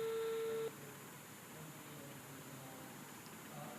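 A phone call tone sounds while calling a boss, one steady beep that cuts off within the first second, leaving quiet background hiss with no talking.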